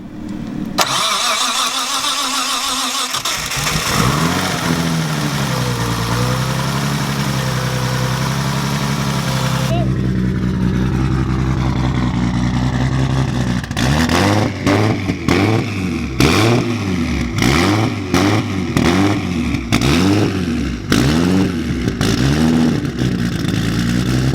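A Nissan S14 Kouki with a 4-inch straight pipe cranks and fires up, settling into a loud, rough idle before a series of sharp, rhythmic revs blast out close by.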